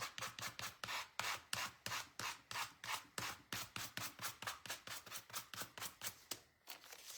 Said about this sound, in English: I think I sanded everything that needs to be sanded.